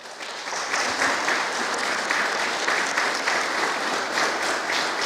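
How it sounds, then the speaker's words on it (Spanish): A church congregation at a Sunday service claps for the children, dense sustained applause that swells in within the first second and stays loud and even, with no speech over it. "Aplausos a los niños, por favor."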